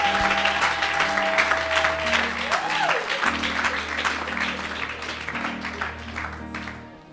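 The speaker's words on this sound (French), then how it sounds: "Acclamez Jésus" A church congregation applauds for Jesus, dense sustained clapping from a large crowd that continues steadily over sustained keyboard chords.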